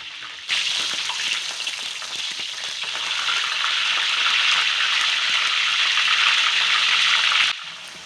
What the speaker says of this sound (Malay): Tumis hingga naik bau.